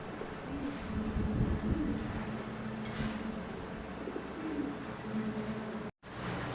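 Fancy pigeons, including a blue bar beauty hen, coo softly inside a cage, with low repeated murmuring calls over a steady background hum, faint and fairly distant.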